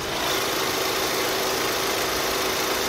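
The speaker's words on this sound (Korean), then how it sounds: "엔진 소리 역시 정말 정숙하고 부드러운 모습 보여주고 있는데요" An SUV engine idling with the hood open, humming steadily, smoothly and evenly close by, a constant low drone with no revving and no voices.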